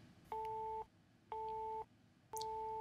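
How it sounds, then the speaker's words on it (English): Three evenly spaced steady two-tone beeps from an Ooma Telo telephone after a dial code is entered, each lasting about half a second with short gaps between, clear and alone over a faint line hiss. "You'll hear three beeps."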